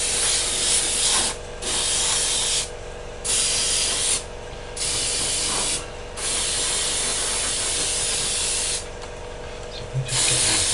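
An airbrush sprays paint onto a 1/48 scale Raptor model aircraft in close, loud hissing bursts of one to three seconds separated by short pauses, with no speech.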